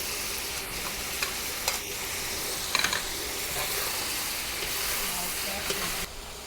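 Pineapple, wood ear mushroom, pork and shrimp stir-fry in a hot pan for a sweet and sour dish, a continuous hiss broken by scraping spatula strokes and light clicks, close up.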